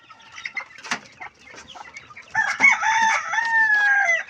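Chickens and chicks roam around a house, clucking and chirping in short scattered calls up close, then a rooster crows loudly near the end.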